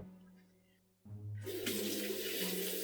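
Kitchen tap turned on to rinse out a mixing bowl after cake batter, water starting abruptly and then gushing steadily and fairly loud into the sink.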